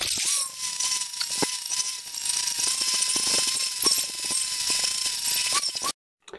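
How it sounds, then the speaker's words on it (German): An angle grinder fitted with a flap disc smooths a welded steel boat post, giving a loud, steady whine over harsh scraping grit that cuts off abruptly near the end. "Aber das machen wir jetzt mit der Fächerscheibe noch ein bisschen glatt auf beiden Seiten"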